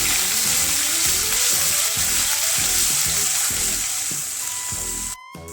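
Loud, steady sizzling of crushed ginger and garlic frying in hot oil, with rhythmic stirring pulses underneath, cutting off abruptly near the end.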